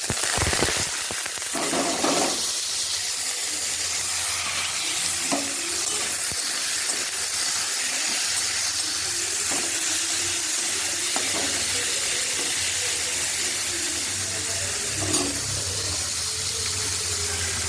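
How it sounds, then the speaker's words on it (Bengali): A broad, steady sizzle of food frying in hot oil in a wok, with turmeric and salt added for a bread chachchari, continues close and loud with a few faint clinks of stirring. "এবার এটা একটু চাপা দিয়ে ভেজে নিচ্ছি"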